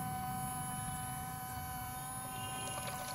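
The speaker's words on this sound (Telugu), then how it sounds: "మోటర్ అయితే వర్కింగ్ అవుతుంది." A small electric motor runs steadily, pumping water through a newly connected pipe, a continuous even hum with faint whining tones and light splashing toward the end.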